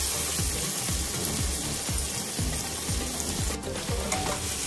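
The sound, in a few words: cumin and onions frying in a pan for pav bhaji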